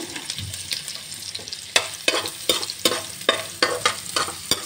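Green chilies and onion frying in butter and oil for pav bhaji, a continuous sizzle punctuated by a rhythmic series of sharp spatula scrapes against the pan, with no speech.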